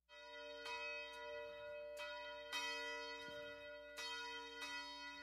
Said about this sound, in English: The silence is then broken with the sound of bells.